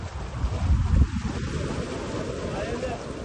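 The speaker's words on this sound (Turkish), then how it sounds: "bu dalgada, bu rüzgarda, bu soğuk suda" Wind and sea waves around a swimmer in cold, choppy open water during a storm, a steady roaring wash with a louder surge near the start, under a man's speech.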